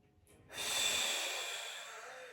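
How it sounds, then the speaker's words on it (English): A single deep, breathy exhale during yoga practice, close and steady, rising quickly and then slowly fading over about two seconds, alone without talk. "Deep exhale."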